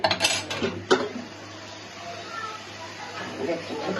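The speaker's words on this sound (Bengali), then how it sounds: "আমি একটু ঢাকা দিয়ে দিই" A metal lid clatters onto a pan of frying bitter gourd with a couple of sharp clanks, then a low steady sizzle continues underneath.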